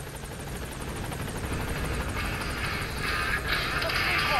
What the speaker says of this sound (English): I guess I have to wait for the helicopter then